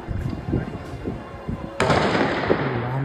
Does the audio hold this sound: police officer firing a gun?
yes